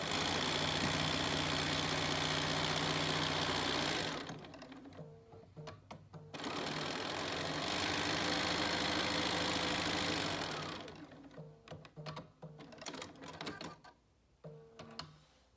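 Sewing machine stitching bulky quilt pieces in rapid, steady runs, stopping and restarting several times, with handling noises during the pauses.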